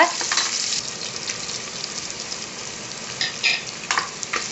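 Curry leaf, garlic and cumin paste stirred in a hot pan with steady sizzling frying, a few scraping stir strokes rising near the start and end, close and fairly quiet with no talking.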